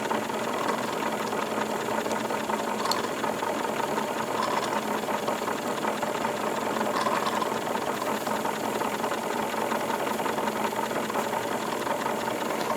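A small Wilesco D22 model steam engine runs steadily with a soft, even mechanical chuffing and light rattle, constant and fairly quiet throughout with no voices.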